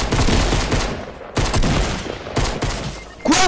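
Pistol shots crack in a video game, three sharp loud reports spaced roughly a second apart, each decaying quickly, with a short burst of voice at the very end.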